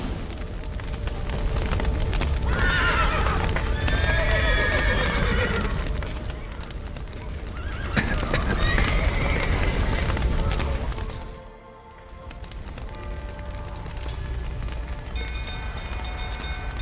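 Horses in The Witcher 3 video game whinny loudly several times over clip-clopping hooves and rumbling background noise, with a brief drop into quieter ambience near the end.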